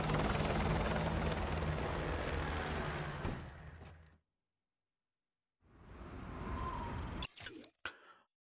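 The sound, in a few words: helicopter in video game Call of Duty Modern Warfare 2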